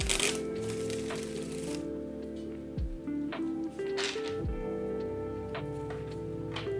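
Tarot cards being shuffled by hand, a run of crackling, snapping riffles close to the microphone over steady background music.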